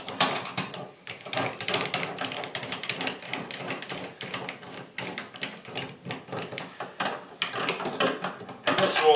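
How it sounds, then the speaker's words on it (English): Screws being backed out of a tub drain plug lever plate, a steady run of close, small metallic ratcheting clicks from a screwdriver turning, with brief pauses between bursts. "the first thing we're going to do is take the two screws out on either side of the drain plug lever right out of there"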